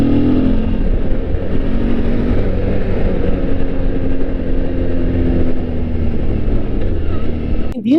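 A motorcycle fitted with a car tire rides along, its engine holding a steady drone with wind and road noise, close and loud, then revving up sharply at the very end.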